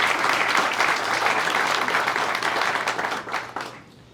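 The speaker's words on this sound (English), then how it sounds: "So I'd just like to give a round of applause." Applause from an audience at a college celebration-of-life event for a retiring president, honoring the vice president and her team; dense, steady clapping that holds for a few seconds and then thins and fades out.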